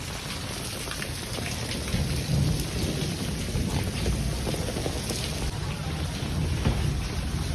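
Steady heavy rain pours down, a dense continuous hiss of drops striking surfaces, with no speech over it.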